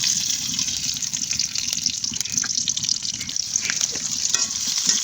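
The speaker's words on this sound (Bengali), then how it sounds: "এখন আমি জিরা, মশলা এবং তেজপাতা দিয়ে দিলাম। এখন এটা একটু তাপিয়ে নিয়ে কিছু পেঁয়াজ দিয়ে দিলাম" Onions, cumin and bay leaf sizzle and crackle in hot oil in a home kitchen, a continuous bright spitting with occasional stirring scrapes, close and steady without talk.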